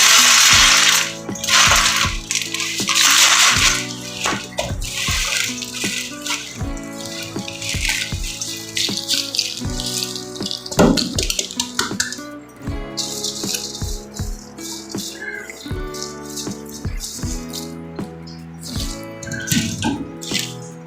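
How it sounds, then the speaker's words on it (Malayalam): Crunchy fried boondi snack mixture is tossed and stirred in a bowl, giving a continuous close rattle and clatter of dry pieces with scattered sharper clinks, and no talking. "ഇതും നന്നായിട്ട് നമുക്ക് മിക്സ് ചെയ്തെടുക്കാം"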